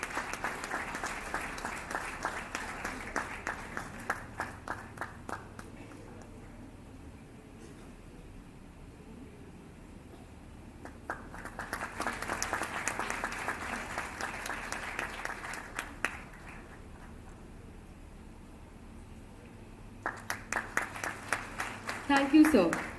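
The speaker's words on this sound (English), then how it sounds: "Can we have a huge round of applause, please?" An audience at an international moot court competition on human rights applauds during a formal honoring ceremony, loud sustained clapping arriving in several waves with quieter gaps between them.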